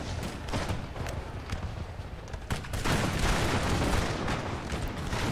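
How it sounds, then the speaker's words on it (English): Artillery and musket fire on a Napoleonic battlefield in Napoleon: Total War: a dense, continuous crackle of volleys and booms, steady and loud throughout, swelling heavier toward the end. "I'm just battering them using the artillery."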